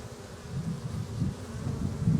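Bees in a Flow Hive give a continuous low, close buzzing hum that swells and dips slightly.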